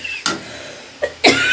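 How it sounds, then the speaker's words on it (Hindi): Someone coughs and sneezes after chili paste gets into the nose while cooking rohu fish, with three or four sharp, loud bursts spaced apart over quiet kitchen background. "छींक और खांसी दोनों निकल रहा है"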